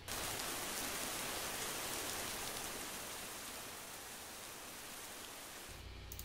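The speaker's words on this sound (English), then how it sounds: "They have some rain noise just to just to be extra." Steady, even rain hiss fills the whole stretch, a dense wash of falling water with no voices, ending in a brief shift.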